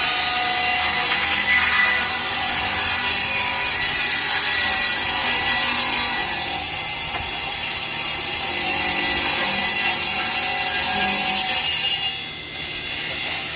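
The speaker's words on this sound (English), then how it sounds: "he's using the table saw to cut that other edge up and get it straight" Table saw ripping along the edge of a hardwood floorboard, a loud, steady, continuous whine and rasp of the blade through wood lasting throughout, easing off briefly near the end.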